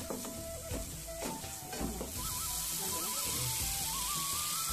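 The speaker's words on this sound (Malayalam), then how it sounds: "1 സ്പൂൺ ശർക്കര ചേർത്ത് കൊടുക്കാം. എന്നിട്ട് നന്നായിട്ട് ഒന്ന് ഇളക്കിയെടുക്കാം." Onions with jaggery sizzle in a frying pan under a steady close hiss, with scraping stirs early on, then a continuous fry while a faint tonal melody plays in the background.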